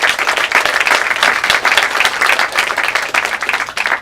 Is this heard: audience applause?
yes